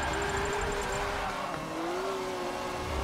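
A Mazda RX-7 FD drifting in a racing video game, its engine holding a loud steady drone with slight pitch wavers and some tire noise throughout, with no pauses.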